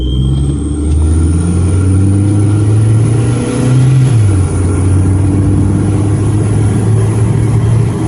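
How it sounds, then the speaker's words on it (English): A car fitted with a turbocharger sound simulator accelerates, heard from inside with the windows down: a loud, steady engine drone that rises and shifts in pitch, with a thin high whine running above it. "Inside the car with the windows down,"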